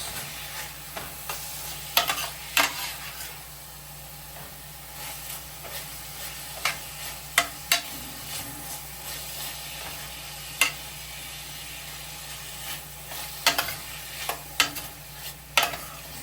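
Beef browning in a small amount of oil in a pot for Jamaican stew, a steady close sizzle punctuated by repeated sharp clicks and scrapes of a utensil against the pot throughout.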